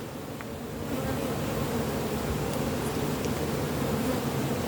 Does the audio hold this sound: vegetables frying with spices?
no